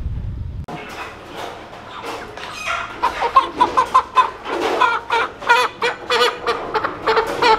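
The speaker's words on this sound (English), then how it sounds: "this is where we buy our chickens every year." Chickens clucking inside a poultry farm store, a steady run of sharp, repeated clucks and squawks close by, building in loudness after a brief quiet start, with no one talking.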